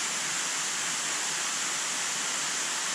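A backyard pond waterfall in Florida, home to beluga sturgeon, gives a continuous, even hiss of falling, splashing water, steady and fairly close, with no voices.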